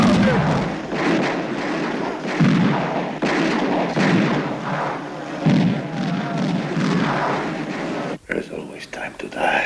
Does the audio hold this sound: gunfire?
yes